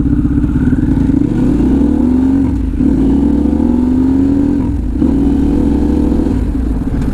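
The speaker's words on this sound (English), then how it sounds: "That diesel pop, my god, it's vicious." A Harley-Davidson Pan America motorcycle fitted with a stealth exhaust rides along, its engine droning loud and close with rising revs in several pulls, separated by brief dips between gears, no voices.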